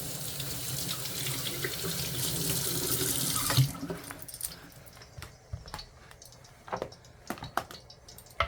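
An onion with its top layer peeled off being washed under a kitchen tap: a steady rush of running water for several seconds, then the flow stops and is followed by scattered wet handling clicks and squishes.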